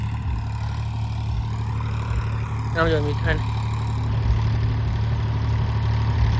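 A 5250 tractor runs with a 6.5-foot Shaktiman rotavator on a farm field, its engine giving a steady, loud low hum while someone speaks briefly over it.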